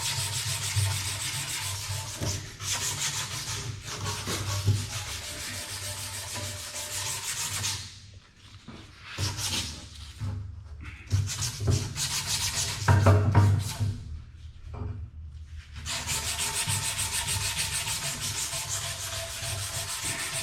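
Sandpaper rubbed by hand over a rusty metal vise, a steady close rasping scrape in long continuous strokes with a few short pauses midway.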